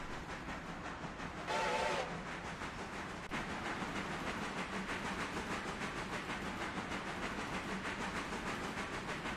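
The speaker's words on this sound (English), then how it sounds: "quit yakking and start driving the train" Train rolling in the Railroader video game, a steady rumbling rail clatter with hiss, a short whistle-like tone burst near the start, continuous and fairly loud throughout.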